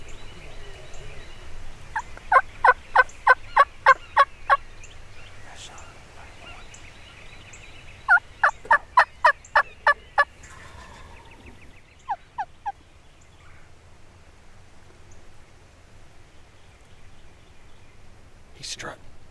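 A wild turkey calls out during a hunt, heard as several clear bursts of rapid rattling notes, fairly close, separated by quiet gaps, over low background murmur.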